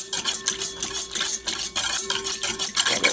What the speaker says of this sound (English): So all of the ingredients are now in this bowl, and I'm just going to mix that around a bit.